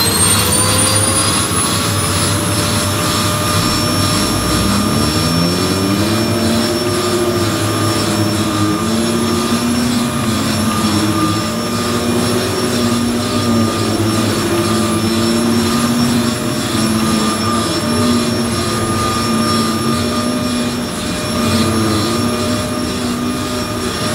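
A Hoover Z400 vacuum cleaner runs steadily and loudly close by, with a continuous motor whine and airflow roar that stays constant throughout, with no talking.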